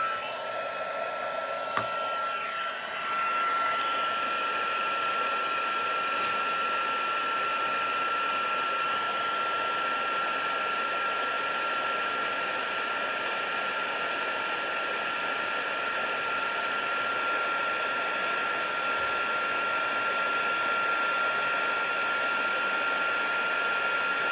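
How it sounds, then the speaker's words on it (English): A heat embossing tool blows hot air in one steady, close, loud whir that holds unbroken for over twenty seconds during a paper-crafting card session. "let me grab the heat tool"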